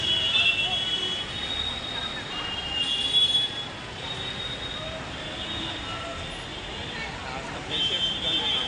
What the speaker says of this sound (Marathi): अजून एक ट्रेन आलेली आहे.